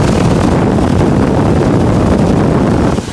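A homemade water cooler fan blows a steady, loud rush of air close by, broadband and constant, tapering off right at the end.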